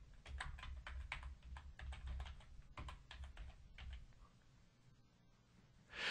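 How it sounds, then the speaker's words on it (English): Fast typing on a computer keyboard at a desk, close-up and clear, with bursts of rapid clicking keystrokes that pause briefly and then trail off into near silence. "we'll type in the name of our first video"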